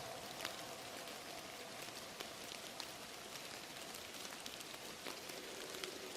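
Steady rain falls in the Silent Hill video game, a constant broadband hiss with scattered drop ticks running evenly throughout, close and unbroken with no voices.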